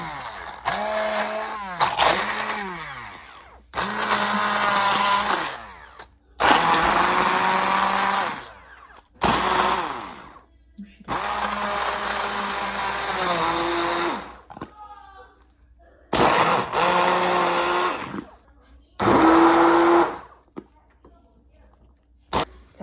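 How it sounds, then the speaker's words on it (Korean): A blender grinds peeled tangerines into purée for jam in a home kitchen, running in several loud bursts of whirring and grinding separated by short pauses, with a voice heard in some of the gaps. "자, 블렌더로 잘 갈아진 귤은 냄비에 담으세요"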